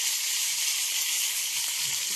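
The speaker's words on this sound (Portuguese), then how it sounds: "tô fritando essas linguiçinhas" Toscana sausages fry in a pan, giving a steady, close sizzle and hiss that stays constant throughout, with no voices over it.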